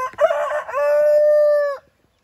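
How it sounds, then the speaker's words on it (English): An Orpington rooster crows once, close and loud, in a deep, drawn-out call with a rough start and a long steady tone that ends abruptly, followed by silence. "He's got such a deep crow,"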